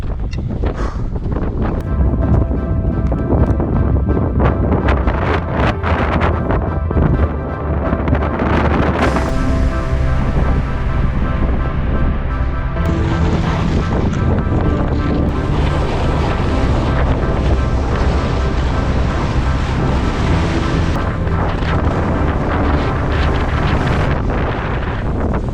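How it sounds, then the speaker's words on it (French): Strong gusting wind roars across an exposed mountain summit in the Sept Laux area, battering the microphone in a loud, constant rumble and hiss that surges and eases throughout, with no voices heard. "il y a vraiment beaucoup de vent"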